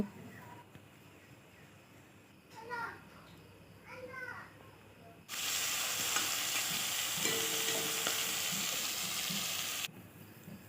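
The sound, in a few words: fish frying, coated in salt and turmeric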